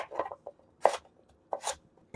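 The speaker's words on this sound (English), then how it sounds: "we're going to cut these in some smaller cubes" Knife cutting peeled beetroot into small cubes on a board, a few sharp separate chops spaced out irregularly, close and clear with no talking.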